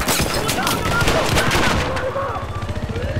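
Automatic gunfire in a Battlefield 4 multiplayer rush match, with loud rapid bursts of shots up close that fade into scattered rounds, while a voice talks over the action.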